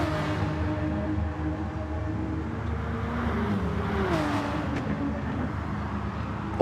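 Porsche Gr.3 race cars on the Nordschleife in a racing video game, their engines whining and droning steadily at close range, with a faint higher note rising near the end.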